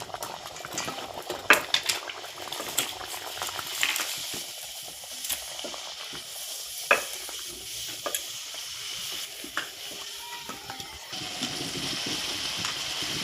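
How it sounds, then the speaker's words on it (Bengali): Luchi fry one by one in hot oil in a pan at night in a courtyard, with a steady bubbling sizzle punctuated by sharp utensil clinks and scrapes and no speech. "আমি লুচিগুলো ভেজে নিচ্ছি এক এক করে"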